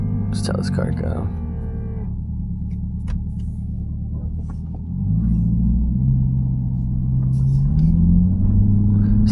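A car pulls away and accelerates on a residential road, its engine rumble swelling from a low idle into a louder, rising drone after a brief voice at the start.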